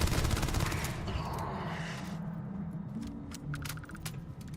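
Enemy gunfire in Starfield, with rapid rattling bursts strongest at the start that then thin into scattered shots, moderately loud and without talk.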